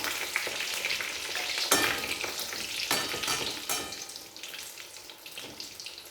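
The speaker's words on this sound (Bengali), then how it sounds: "এইভাবে সব চপগুলো ভেজে নেব।" Vegetable chops coated in crushed toast biscuit crumbs fry in oil. A steady, fairly faint sizzle is broken by sharp clattering bursts as they are turned and stirred in the pan.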